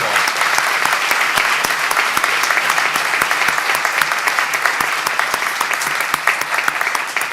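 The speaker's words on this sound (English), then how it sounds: "Everyone, please give these men and women a warm round of applause." Audience applause at a service center dedication ceremony, sustained loud clapping with some distinct nearby claps standing out in a steady rhythm over the crowd's continuous patter.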